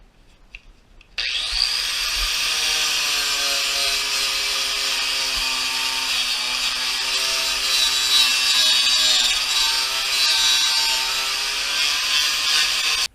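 A power sander grinding surface rust off a lowrider car's window frame, starting abruptly and holding a steady high whine with harsh abrasive scraping for the rest of the run.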